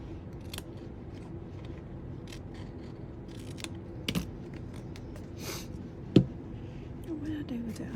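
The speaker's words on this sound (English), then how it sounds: "Okay, now this is a little ragged, so I'm going to trim it." Scissors trim a ragged paper edge on a large book-page craft pocket, giving a few soft snips with two sharper cuts near the end over faint room noise.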